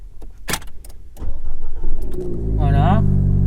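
An Alpine Renault A110 engine cranks over and fires up, then settles into a loud, steady, rumbling idle close by, with brief talk at the start.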